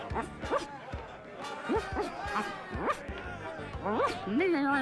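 A dog in The Secret of Monkey Island video game gives a few short barks and yips amid game music, with a player talking over it.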